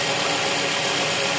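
A Toyota Corona with a 3S engine idles with a wiring fault. A steady, loud, broadband engine hum and vibration runs close by without a break.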